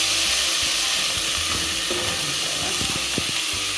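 A mixture for bourek with béchamel toasts in oil in a pan, giving a steady, close hiss and sizzle with faint stirring clatters near the end.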